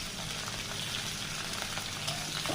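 Chopped onion and green chili frying in hot oil in a pan, a loud continuous close sizzle with faint stirring, no voices.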